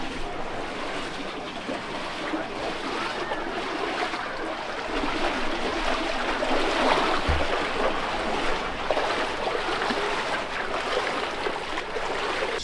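Eli Creek on K'gari flowing steadily toward the beach, a continuous broadband rush of running water that swells slightly midway, heard alone without talk.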